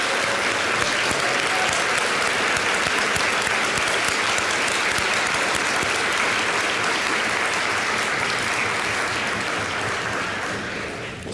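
A large audience at a college convocation breaks into sustained applause, dense and steady clapping filling the room for about eleven seconds before tapering slightly at the end.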